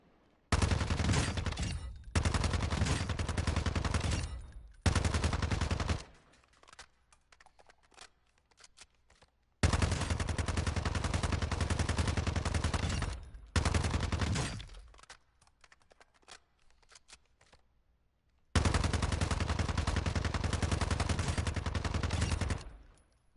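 Bursts of automatic rifle fire with a muzzle device in the video game DMZ, several long sustained volleys separated by brief quiet gaps, loud and close.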